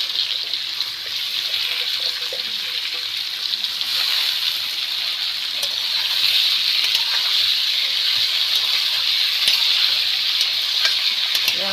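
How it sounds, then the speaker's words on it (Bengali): Potatoes frying in the same oil just used for fish, a loud steady sizzle and bubbling, growing slightly stronger midway, with occasional utensil ticks and no speech. "এই তেলের মধ্যেই আমি ভেজে নেব আলুটা দিয়ে দিব"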